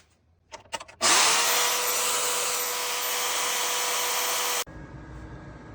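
Metal is cut for a homemade turbo header on a 1965 Ford F100 pickup. A few light clicks come first, then a loud, steady, high cutting whine runs for about three and a half seconds before stopping abruptly.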